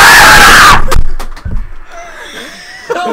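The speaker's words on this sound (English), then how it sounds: "That was a legit scream" A player of the horror game Emily Wants To Play lets out a loud, high, frightened scream lasting under a second, followed by scattered thumps, groans and faint breathy sounds.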